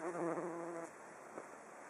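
Bees buzz among phacelia flowers in a steady, close, droning hum that fades out after about a second. A faint outdoor hiss continues after it.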